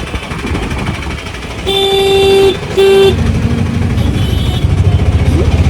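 Auto-rickshaws and other vehicles rumble past on a busy road near Dwarka, with two loud, sustained horn blasts close by in the middle amid constant engine noise.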